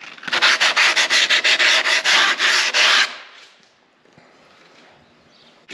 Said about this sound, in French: Et la mousse, ça se ponce super bien avec du gros grain, du 80.